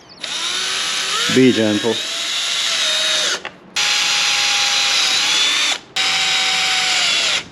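A power drill bores three holes into plastic to mount a daytime running light on a Can-Am Ryker. The steady, loud whine comes in three long bursts with brief pauses between them, and a short spoken remark cuts in early.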